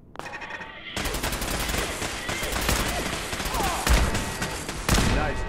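Automated turrets in Fallout 4's Nuka-World open up in a long, dense barrage of rapid gunfire, loud and continuous for several seconds with a few heavier bursts near the end.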